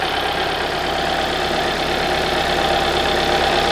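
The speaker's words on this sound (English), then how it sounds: "So as you can hear, the engine is running." A Hyundai Sonata engine idles rough with stored fault codes P0011 and P2006, giving a steady, close, continuous engine drone that holds at an even level with no speech over it.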